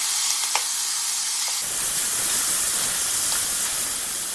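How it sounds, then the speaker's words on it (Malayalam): Sliced tomatoes drop into onions frying in hot oil for a Kerala-style chicken curry, and a soft background sizzle jumps to a loud, steady, hissing crackle that carries on alone. "ഇനി നമുക്ക് ഇതിലോട്ട് നീളത്തിലരിഞ്ഞ തക്കാളി ചേർത്ത് കൊടുക്കാം"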